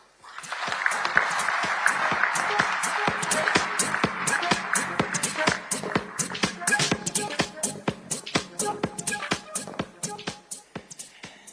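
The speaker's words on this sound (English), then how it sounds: "Let's give him a warmer round of applause" A conference audience at the PIWOT 2025 technology event applauds, a dense wave of clapping that holds steady and then thins into scattered individual claps before fading.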